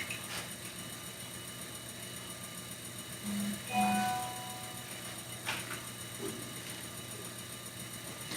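Steady low mechanical hum of a spinning pottery wheel motor while a big bowl is thrown, faint and continuous, with a brief slight swell midway.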